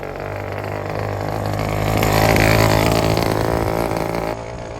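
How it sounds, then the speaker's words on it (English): The small two-stroke engine of a motorized bicycle runs close by with a buzzy, raspy drone, rising in a brief rev toward the middle before dropping back, heard alone. "The little engine is a two-stroke, so I added fuel to the gas tank and then gave it a try."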